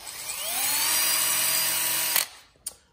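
A power drill bores number 19 holes for number 8 screws during an RV build, a steady close whine running about two seconds before stopping, followed by a brief rattle.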